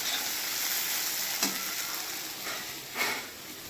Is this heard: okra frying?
yes